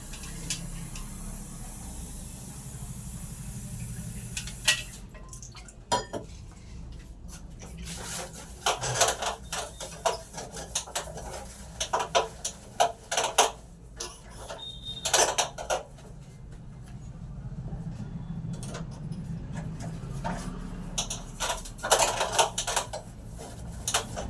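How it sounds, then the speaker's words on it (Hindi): Dishes and a large metal kneading plate are washed by hand in a home kitchen, with steady clinking, scraping and clattering of utensils and pans throughout. "बर्तन भी सारे धुल गए हैं"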